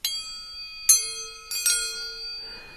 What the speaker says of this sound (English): if you wrap the string around a microphone, you get to hear exactly what that sound is like in your head